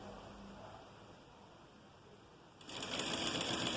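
A sewing machine stitches a hem on a garment, starting partway through with a loud, close, rapid steady whir after a quieter stretch of handling.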